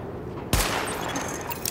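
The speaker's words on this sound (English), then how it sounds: "Open fire at the highlighted targets." Gunfire at highlighted targets during a weapon test in The Division: after a quiet half second, a sudden loud burst opens a rapid volley that keeps rattling at a steady level.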